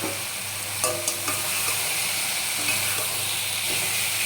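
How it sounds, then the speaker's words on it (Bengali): Soy chunks and potatoes are tossed into hot oil, giving a steady close sizzle with a few clattering knocks as they go into the pan. "এবার আমি এই আলু আর সয়াবিনগুলো দিয়ে দিলাম।"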